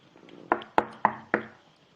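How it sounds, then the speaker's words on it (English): Four sharp knocks on a door, evenly spaced and close, ringing out alone in a quiet room with no talking. "I guess someone has to knock on the door, right?"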